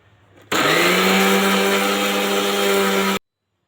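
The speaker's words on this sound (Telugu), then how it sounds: "మళ్ళీ ఒకసారి పడదాము మిక్సీకి అయితే" A kitchen mixer grinder whirs loudly as it grinds dry red chillies and garlic cloves for a mint chutney. The burst starts abruptly, holds a steady high-pitched motor hum for under three seconds, then stops.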